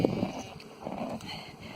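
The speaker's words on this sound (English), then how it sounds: "Not a lot out there for horse to eat in the winter, is there?" Horse moving and feeding outdoors in winter countryside, with soft clip-clop hoof steps and shuffling close by over a steady outdoor background; no clear talk.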